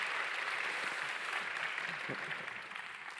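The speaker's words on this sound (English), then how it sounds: "Let's have a round of big applause for our panelists." Audience at a Nobel Prize Dialogue science panel in Seoul applauding the panelists, a steady wash of clapping from many hands that holds evenly and tapers slightly near the end.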